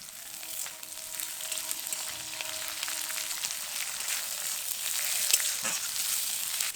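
Chopped onion sizzling in hot oil in a pan with browned ginger and garlic, a steady close frying hiss with small crackles and no voices.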